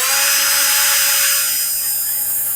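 Steady, loud whine of a power drill boring holes in a Piper Super Cub wing rib, held continuously at close range with a slight drop in pitch near the end.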